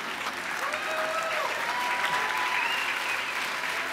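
A large graduation-ceremony crowd claps steadily and evenly for a few seconds, a dense wash of hands with faint whoops and voices mixed in.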